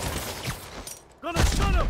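Gunfire in the Marvel's Spider-Man video game, a loud burst of shots breaking out after a quieter stretch, with game voices calling out around it.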